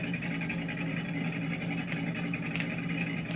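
A car fitted with a big cam idles steadily through its exhaust, giving a continuous low, throbbing rumble at even volume throughout, with no voices.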